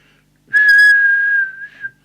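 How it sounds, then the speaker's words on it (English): A single clear, steady whistle into a CB radio microphone, held for about a second, loud and close, tapering off with a short trailing note. "Now from here we'll do the whistle test."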